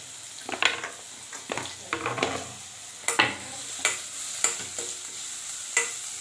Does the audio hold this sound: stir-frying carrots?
yes